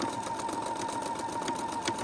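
A sewing machine runs at a steady fast pace stitching a queen size Christmas quilt, a continuous close whirring hum with a rapid needle rhythm.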